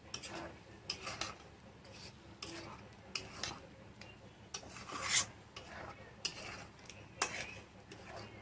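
Pointed gourd stirred in a pan with a paste of curd, cashew and chilli, giving soft scraping and rubbing strokes of a spoon against the pan in an irregular rhythm, near and moderately quiet.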